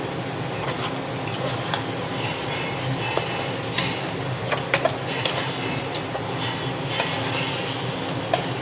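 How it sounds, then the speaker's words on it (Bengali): Spinach being stirred in a frying pan, a continuous low sizzle under repeated scraping and clinks of a spatula against the pan, close and busy, with no talking. "ভালো করে এবার এটাকে নাড়তে হবে, ভালো করে মিক্স করে নেব।"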